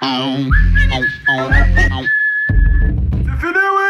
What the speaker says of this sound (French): j'ai l'audace de siffloter